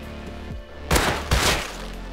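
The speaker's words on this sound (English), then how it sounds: "Gunshots up ahead." Two sharp gunshots from the video game Rust ring out in quick succession, loud and close, with a faint background hum before them.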